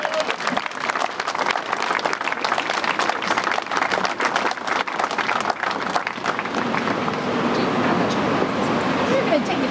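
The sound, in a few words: audience applause at dedication ceremony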